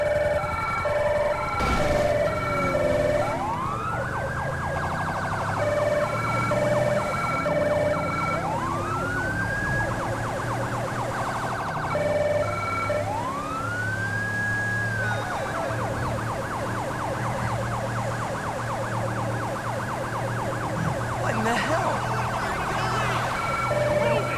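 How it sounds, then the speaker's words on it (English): Ambulance siren in Grand Theft Auto V, wailing in repeated rising and falling sweeps over steady traffic and engine rumble, loud and continuous, with a faster yelp pattern toward the end. "It's an ambulance."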